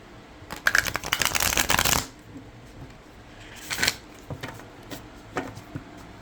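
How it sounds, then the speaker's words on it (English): A fast riffle shuffle of slightly thick tarot cards buzzes loudly for over a second, followed by softer taps and squaring of the deck, no speech. "they are riffle shuffleable"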